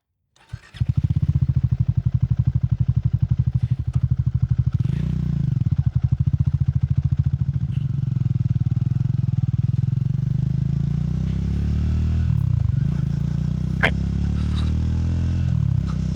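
A Triumph Scrambler 400 XC motorcycle engine pulls hard while riding, a close, loud, gritty low throb that shifts pitch through gear changes and holds steady for sixteen seconds, with faint clatter and no talk.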